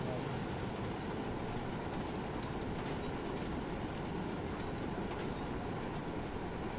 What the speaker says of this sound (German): Da kommt ein Zug, ich verstehe.